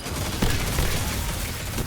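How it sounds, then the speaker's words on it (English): Heavy gunfire fills a hallway firefight in the video game Destiny 2: a dense, continuous barrage of overlapping shots with sharper bursts poking through, loud and unbroken throughout. "The amount of gunfire raining down this hallway right now is obscene."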